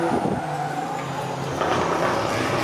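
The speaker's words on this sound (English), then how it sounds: "Right now, you can see Min Van Qua warming up that fresh set of tyres." A drift car at a Borneo Star Drift Series qualifying round in Miri, Sarawak warms up a fresh set of tyres, engine revving loudly with tyre squeal and a broad roar throughout, steady and fairly close.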